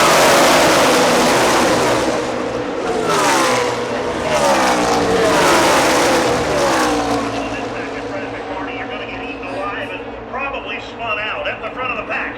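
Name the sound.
NASCAR race cars racing at Talladega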